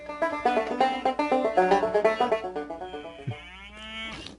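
A cow moos loudly and repeatedly in a rhythmic series of short calls, close by, ending with a drawn-out lower moo.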